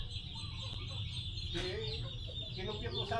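Chabo bantam chickens cluck in a backyard farm, with short, repeated calls heard fairly close over a steady low background hum, and a brief burst of squawking around the middle.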